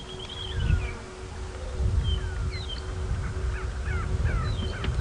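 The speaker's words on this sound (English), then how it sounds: "bird is calling again" Bird calls ring out repeatedly from a distance during a morning safari drive at Djuma Game Reserve, harsh crow-like caws and whistles scattered over a low rumble of wind or an idling vehicle.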